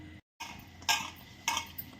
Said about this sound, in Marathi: चला छान इथं मिक्स करून घेते मी.